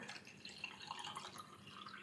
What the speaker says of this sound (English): I'm going to dump 200 mils of water in each one.